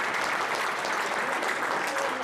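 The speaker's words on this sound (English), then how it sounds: "So again, just please, one more round of applause to our staff, everyone involved." Steady, dense applause from an audience at a senior center dedication, a continuous wash of clapping hands at moderate distance, with a voice faintly beneath it.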